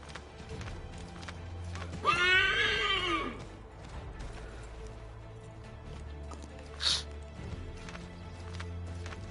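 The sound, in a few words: horse neighing in video game Assassin's Creed III Remastered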